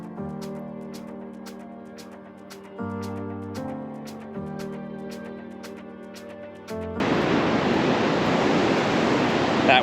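Ocean surf roars at a beachfront campsite on Double Island, a loud steady wash of breaking waves that swells in suddenly after a stretch of tonal music with rhythmic beats.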